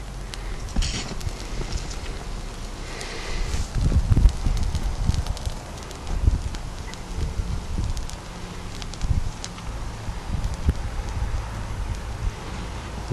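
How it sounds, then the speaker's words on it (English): Bark tinder, oily and highly flammable, burning outdoors with an open flame that gives off black smoke; soft crackling and low rumbling flutters, likely wind buffeting the microphone, with irregular louder bursts throughout. "You can see the oils burning with the black smoke that's coming off the flame."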